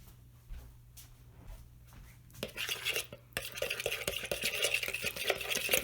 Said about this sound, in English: And then you are just going to whisk this up together.